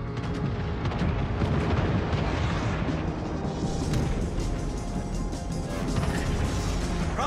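Naval gunfire from warships hitting a target in World of Warships: Legends, a loud, continuous barrage of crashing blasts and booming impacts with no talk.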